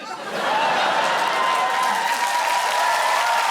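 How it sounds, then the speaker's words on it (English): A studio comedy audience bursts into loud, sustained applause and cheering, with a woman whooping above the dense clapping and some laughter mixed in. "Why are you cheering?"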